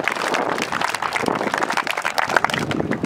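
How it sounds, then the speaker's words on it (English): Audience applauding at a batting cage dedication, a dense continuous patter of many hands clapping at moderate distance, steady for the whole stretch. "Give them a round of applause."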